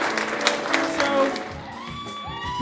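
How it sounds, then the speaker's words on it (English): Wedding guests applaud and cheer at a reception after the ceremony, a burst of clapping with whoops that fades out under background music and crowd noise. "Nice round of applause for Damien."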